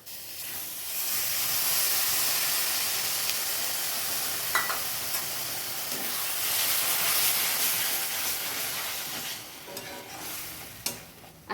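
Ground bottle gourd leaf paste frying with green chillies in a pan for a rohu fish dish, a loud steady sizzle and hiss with occasional stirring scrapes, close up and without talk.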